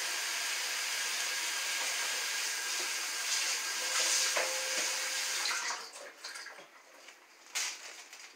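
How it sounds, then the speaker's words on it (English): Hands get rinsed under a running kitchen tap, with a steady hiss of water that holds for several seconds and then breaks into uneven splashes and drips as the flow is interrupted. "Give my hands a quick rinse."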